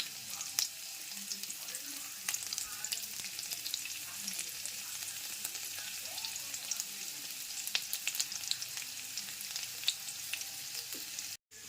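Curry leaves and chopped garlic frying in hot oil, a dense continuous sizzle with fine crackles and pops that stays even and close throughout and has no talking.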